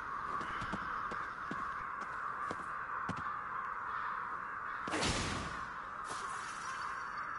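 Crows in an alley in the video game Ghostwire: Tokyo give repeated harsh caws over a constant droning background, with a louder rushing swoosh burst midway.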